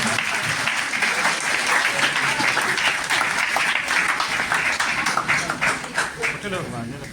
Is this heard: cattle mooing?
no